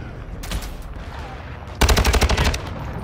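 Gunfire in Call of Duty Modern Warfare 2 on PS5: a short burst early on, then a loud, rapid automatic volley of about a dozen shots, with no talk.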